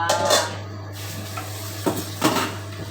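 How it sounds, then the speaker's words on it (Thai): Dishes and cutlery clattering as plates and spoons are set out in a home kitchen, a few brief clinks and knocks near the start and again toward the end over a steady low hum. "เตรียมจานช้อน"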